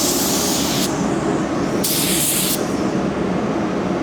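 A paint spray gun laying Kiwami 4 sealer onto a Chrysler car body at low pressure, a loud, steady close hiss throughout with two brief brighter surges.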